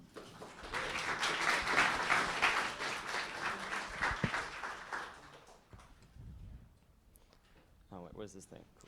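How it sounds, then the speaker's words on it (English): Conference audience at a lightning-talk session claps to welcome a speaker, a dense round of applause that swells and then fades out after about five seconds, followed by quiet room noise and a few spoken words near the mic. "great round of applause"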